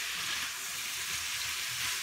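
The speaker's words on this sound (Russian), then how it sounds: "вот мы сейчас обжариваем лук и перец" Onion and pepper frying in a pan, a steady, dense sizzle heard close up and alone, with no voices over it.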